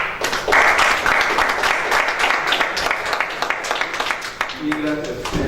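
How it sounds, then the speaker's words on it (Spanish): A lecture audience applauds steadily for several seconds, a dense patter of clapping that fades toward the end as a voice begins speaking. "Démosle un aplauso,"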